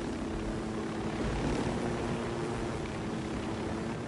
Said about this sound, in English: So I'm gonna park my chopper here.